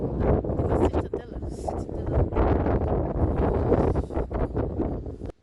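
Very strong wind roars and buffets the microphone at the citadel gate on Gozo, a loud continuous gusting rumble with rushing swells throughout.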